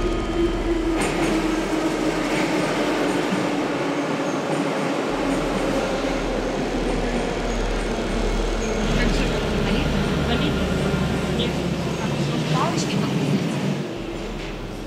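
A train passes through a subway station in Ukraine, with a steady loud rumble and rail clatter that run the whole time and ease off near the end; faint voices sit under the noise.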